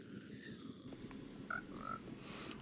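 Frogs in the video game Minecraft croak softly, with a few short croaks rising over a faint, busy background of game ambience.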